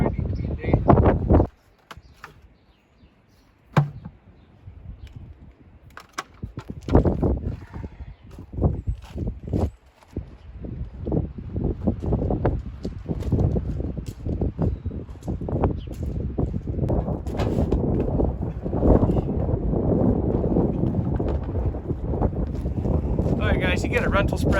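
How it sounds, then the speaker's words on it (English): Gusty wind blows outdoors on a farm, buffeting the microphone in heavy, continuous roaring bursts that grow steadier and louder toward the end, with a few brief clattering knocks mixed in. "the wind really sucks today like usual"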